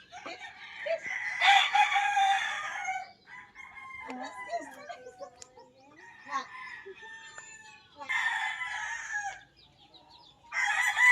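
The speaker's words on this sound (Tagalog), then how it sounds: "May mga alaga po silang mga manok." Chickens cluck and a rooster crows nearby, with several overlapping calls rising and falling over a few seconds.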